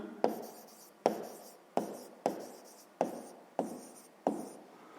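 Pen strokes on paper in a sixth-grade maths exercise sound as seven evenly spaced scratchy strokes, each starting with a sharp onset and fading, close and clear with no voices.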